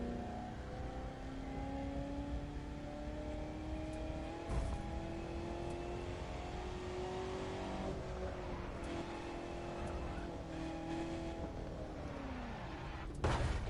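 A car engine in The Crew 2 racing game, a long sustained high revving drone that climbs and holds steady, shifting pitch late on and ending with a louder burst, with no voices.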